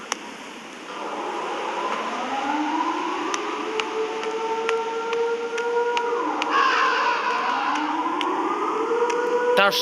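The wailing, rising and falling siren of the Siren Head creature in the horror video game Siren Head Field drones loudly and continuously, with layered sweeping tones and a few sharp clicks.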